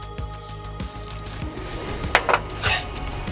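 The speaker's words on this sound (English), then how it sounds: "Now mix it very well." Barbecue sauce laced with Tennessee whiskey gets mixed for country-style ribs, a spoon clinking and scraping against the bowl in a handful of light metallic taps near the end.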